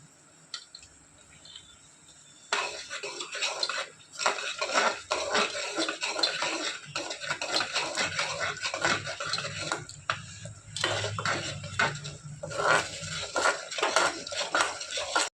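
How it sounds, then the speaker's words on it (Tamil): A spoon clatters and scrapes steadily against a pan while banana halwa thickens with cornflour and ghee, the stirring close and continuous, with a brief quieter stretch before it starts. "ஊற்றி அதையும் வச்சு நல்லா கிண்டிகிட்டே வரணும்"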